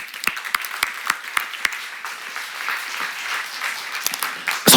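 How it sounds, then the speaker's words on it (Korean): Audience applause in a church Bible class, a steady wash of many hands clapping at moderate distance, with a few sharper near claps standing out and a loud burst at the very end. "박수 쳐"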